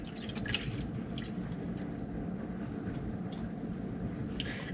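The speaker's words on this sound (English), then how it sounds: "So I'm going to go ahead and shake up the milk, get the cream incorporated, pour it into the pot." Milk is poured into a pot for making yogurt, giving a soft, continuous liquid trickle with light dripping and splashing, quiet and close.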